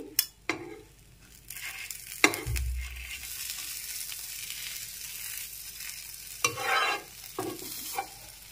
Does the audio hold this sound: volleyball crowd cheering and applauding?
no